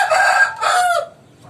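A rooster let loose outdoors near a hen crows loudly and close, a single drawn-out cock-a-doodle-doo in two strong bursts that tail off into a brief fading note.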